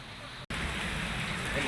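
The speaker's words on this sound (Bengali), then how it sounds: "এই এক সপ্তাহ বৃষ্টি হচ্ছে" Rain falls steadily during a week-long spell of wet weather, a soft continuous patter heard alone, briefly cut by a moment of silence.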